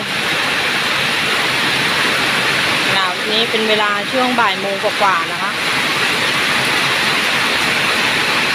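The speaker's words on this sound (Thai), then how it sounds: "ฝนตกหนักมากเลย" Heavy rain falls during a storm as a constant, loud wash of hiss, with someone speaking briefly over it midway.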